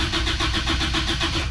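A car engine cranking continuously with a rapid, pulsing starter whir that never catches, loud and close, during a check of weak brakes and the hydrovac brake booster.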